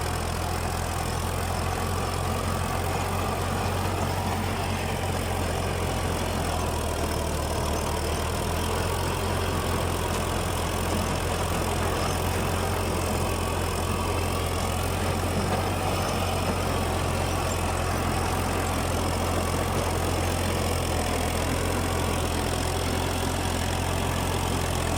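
A tractor engine drives a 42-blade rotavator through grassy field soil, a loud, steady, continuous drone with a low rumble and no talking.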